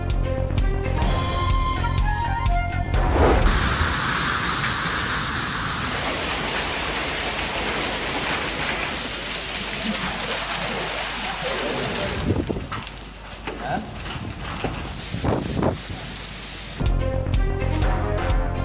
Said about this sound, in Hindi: लाहौर में तेज बारिश